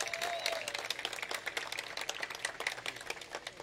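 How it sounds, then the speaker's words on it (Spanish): Quiet applause from an audience at a land title handover ceremony for farmers and Indigenous women, dense scattered clapping heard from a distance, with a faint voice early on. "Un fuerte aplauso para cada una de las beneficiarias."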